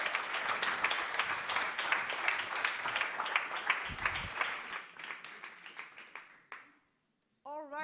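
An audience applauds and cheers for a team at the close of a sports sustainability pitch event, a dense burst of clapping that fades out over five seconds, followed by a short tonal sound near the end.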